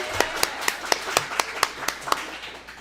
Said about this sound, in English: clap it up for Avery